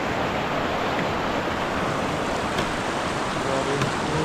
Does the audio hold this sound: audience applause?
no